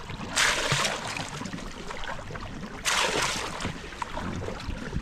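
Two distinct splashy strokes of a paddle dipping into water from a small boat, spaced a couple of seconds apart, over a steady outdoor wash of water.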